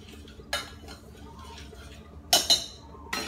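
A spoon stirring quinoa porridge with coconut milk in a pot, a few sharp metallic clinks and scrapes against the pot rim in quick bursts, close, over quiet background.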